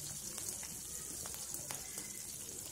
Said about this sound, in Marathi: छान अशा पांढऱ्या होईपर्यंत मिरच्या तळून घ्यायच्या आहेत